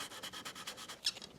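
A thin sanding pad rubs back and forth over a painted wooden stair spindle in quick, even strokes, close and soft, with steady rhythmic scratching and no talking.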